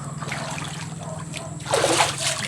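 Floodwater washes and splashes in a catfish pond, with a soft trickle at first that swells into a louder rushing splash near the end.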